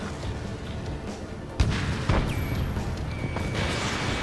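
The Arsenal Bird fires weapons in the air-combat game Ace Combat 7: two sharp bursts, then a thud, over a steady rumbling hum, with faint high electronic tones lasting to the end.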